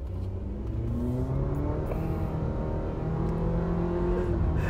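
A 2022 Mitsubishi Xpander with a CVT accelerates in sport mode on a test track, its engine droning steadily and rising through simulated stepped shifts, loud and continuous from inside the cabin.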